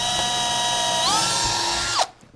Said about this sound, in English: Make sure you drill all the way through.